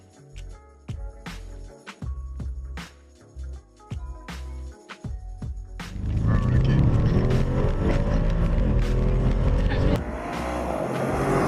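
A race car engine revs in short bursts with clicks and gear shifts, then roars continuously at high speed with rising pitch, loud and close from inside, on the Paul Ricard circuit.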